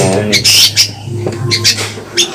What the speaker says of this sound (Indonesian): burung ini mainnya satu titik nggak geser, tetap satu sampingan dengan bunyi panjang, membawakan volume yang keras